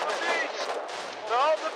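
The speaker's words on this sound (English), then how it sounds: "I am hearing explosions, so I can't exactly see what's going on. Gunfire still resounding across the entire front line." Sustained gunfire across a war video game battlefield, with dense rapid shots rolling continuously at a steady, moderately loud level and no speech over it.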